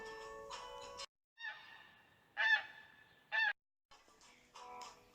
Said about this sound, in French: Passent les oies en caquettant.